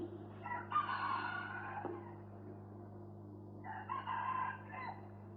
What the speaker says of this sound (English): The roosters are crowing, which is a sign that it's time to wake up.